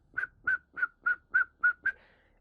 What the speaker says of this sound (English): it's means of communication between people in this island to whistle like this